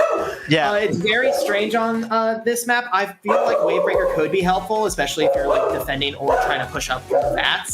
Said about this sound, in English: Apologies for my dogs barking.